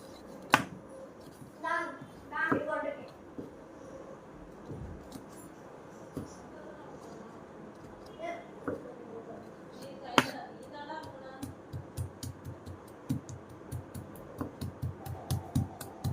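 A knife taps sharply on a cutting board in scattered bursts, then in quicker, steady chops toward the end, with brief speech early on, as food is chopped into small pieces.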